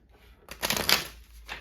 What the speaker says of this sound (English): we're just going to do a quick shuffle here